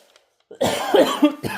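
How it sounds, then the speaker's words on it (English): A single burst of coughing, close and fairly loud, starting after a brief quiet moment and trailing into a second rough cough. "it's making me cough"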